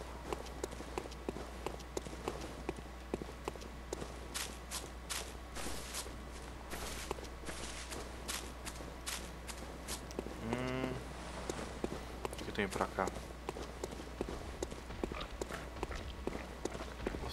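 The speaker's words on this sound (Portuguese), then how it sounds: "Eu tô ouvindo um daqueles porcos louco." A giant pig monster in the Bloodborne video game grunts and snorts amid footsteps and background noise, with a deep rough grunt in the middle and someone speaking briefly.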